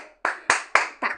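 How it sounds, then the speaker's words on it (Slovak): A single person claps four sharp, close hand claps at a steady, slightly uneven rhythm, with short silences between them. "Zatleskam."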